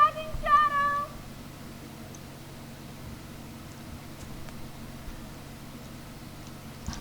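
A kitten gives a short pair of clear meows at the very start, then only quiet room hiss and faint background rustle follow.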